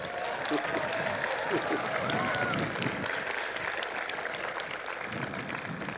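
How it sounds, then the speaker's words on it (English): University convocation audience applauding for nursing graduates, a fairly faint, steady spread of clapping through a large hall, with some murmuring underneath. "I think maybe that deserves a round of applause."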